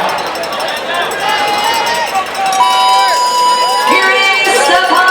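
A crowd at the CrossFit Games cheers and shouts in a continuous loud roar, with whistles and rising calls.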